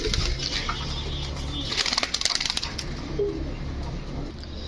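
Pigeons being handed over for delivery coo softly and repeatedly at close range, with a rustle of wings and handling noise in the background.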